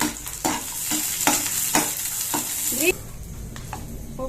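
Garlic, chana dal, urad dal and four dried red chillies fry in hot oil for a spicy chutney, a bright crackling sizzle punctuated by repeated scraping stirs of a spoon in the pan, then the sizzle quiets.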